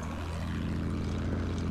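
Propeller planes in Battlefield 1 drone overhead with a low, throbbing engine hum and a pitch that sweeps downward as one passes, loud and steady for the whole stretch.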